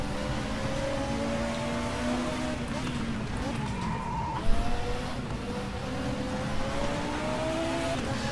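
Race car tires lock and skid under braking in the Race 07 racing video game, STCC touring cars at Valerbanen, tonal squeals rising and falling over constant engine drone, with a brief louder burst midway.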